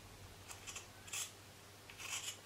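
Scissors cut old clothing fabric into feather shapes, with several quick, crisp snips in small clusters, close and fairly quiet against a soft background hum.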